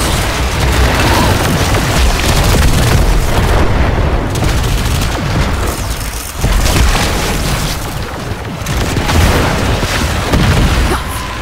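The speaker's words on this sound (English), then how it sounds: "Bombardment inbound." Bombardment explosions in the video game Warframe: loud, sustained booming blasts and rumbling impacts follow one another densely, with crackling bursts mixed in, forming a near-constant barrage.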